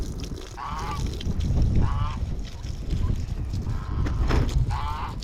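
Several loud honking turkey calls repeat at intervals over a constant rumbling, windy background, with a voice briefly audible.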